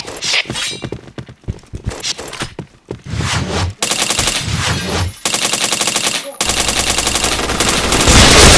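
Rapid automatic gunfire from a video game shooter, loud and sustained in dense bursts with short gaps, joined by sharper shots and impacts, with faint talk near the start.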